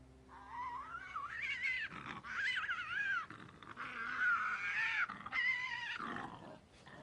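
A quoll, a carnivorous marsupial, gives a series of harsh, close hisses and shrill yowling cries with rising and falling pitch, coming in bursts separated by brief pauses.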